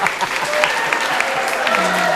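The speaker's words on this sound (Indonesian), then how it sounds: "Ya, tepuk tangan untuk Pak Purwo" An audience applauds Pak Purwo at a cultural education gathering, a dense, fairly loud burst of clapping with a voice faintly audible underneath.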